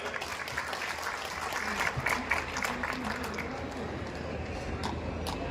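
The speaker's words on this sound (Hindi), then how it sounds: "भाई एक बार जोरदार तालियां।" Crowd applause at a stage program of a three-day livestock fair in Mahendragarh, Haryana, a moderate spread of clapping heard at some distance with voices mixed in.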